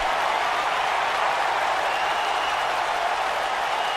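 A wrestling arena crowd roars in the WWE 2K video game: a steady, dense wash of cheering and applause holds at an even level throughout, with no breaks.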